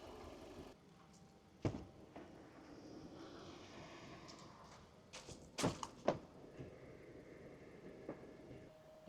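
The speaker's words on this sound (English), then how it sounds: "I will get the windows and doors open and get the car ventilated." Car doors open and shut with a few dull thunks and clicks during summer fleet maintenance after an aircon treatment, faint and spaced out against a quiet background hum.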